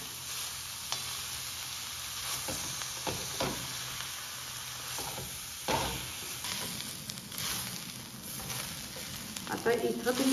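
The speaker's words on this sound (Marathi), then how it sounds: "आता आपण अगदी सिम गॅसवरती किंवा मीडियम गॅसवरती परतून घेऊया, खरपूस ह्याला भाजून घेऊ।" Onion and grated coconut masala roasting in a pan over low to medium gas for crab curry, a soft continuous sizzle with occasional stirring scrapes and clinks, fairly quiet throughout.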